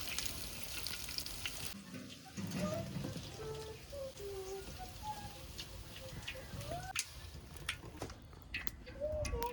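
Soya chunks fry in hot oil until golden, with a soft, continuous crackling sizzle and occasional stirring scrapes, fairly faint and steady throughout with no talk.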